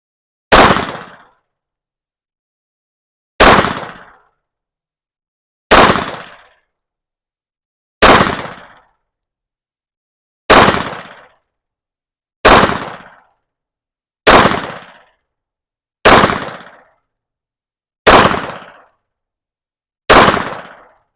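Ten sharp pistol shots from a Beretta Cheetah 80x at a shooting range, each a loud close crack with a short decaying echo, fired at a slow even pace about two seconds apart, with no talking.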